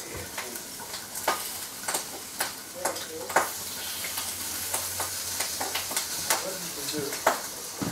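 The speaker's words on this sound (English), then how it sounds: "I've got some more bacon frying in the background." Bacon frying in a pan, a steady crackling sizzle with irregular sharp pops and spits throughout, heard close and on its own without voices.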